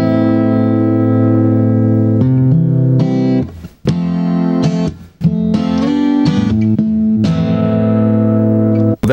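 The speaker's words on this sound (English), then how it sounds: "here's the main one, which is that big muff sound that I like out of the Radio Shack" A Radio Shack pedal gives a thick Big Muff style fuzz distortion on sustained, loud electric guitar chords. They change every second or two, with brief gaps and a long ringing decay, and no voice.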